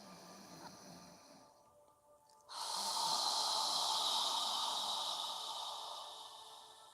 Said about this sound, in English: As you exhale, imagine you're fogging a mirror with your breath.